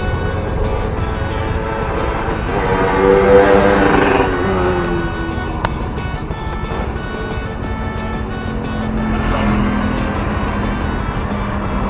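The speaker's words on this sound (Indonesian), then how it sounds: "Ya, kita lihat arus kendaraan," Road traffic flowing beneath the Padang toll flyover in Indonesia during Lebaran: a steady, loud wash of passing cars and engines with swelling pass-bys, heard from above without talk.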